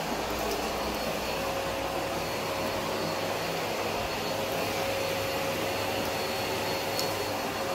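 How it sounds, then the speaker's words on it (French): A vacuum cleaner drones steadily and loudly from start to finish, a constant whirring hum with no pauses. "On fait un peu l'aspirateur."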